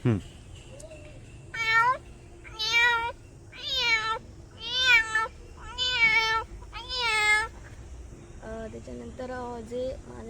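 A man imitating a cat gives a run of six drawn-out meows, then several shorter, softer mews trailing off.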